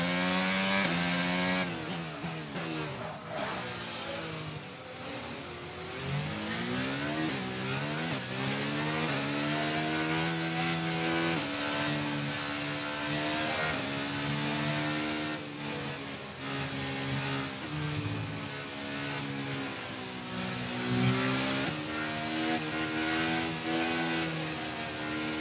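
An F1 2022 race car engine in a video game screams continuously at high revs, its pitch rising and falling through gear changes as it accelerates, loud and close with no talk.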